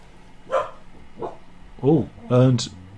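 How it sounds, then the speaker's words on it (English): A dog barks in a few separate yelps that grow louder toward the end, with a voice talking around them. "The dog's barking."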